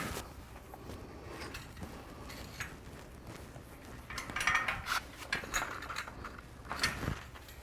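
Bolt being tightened with a ratchet while a security cage for tools is built, giving a run of light metallic clicking and clattering that grows busier and louder toward the end, with no talk.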